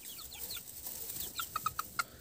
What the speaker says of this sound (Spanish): Así eran los pollitos de engorde cuando los metí en el gallinero.